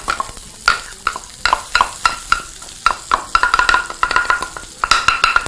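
Pestle knocking and tapping small bits of masala out of a mortar, a run of sharp close clatters and taps in irregular bursts, with no voices over it.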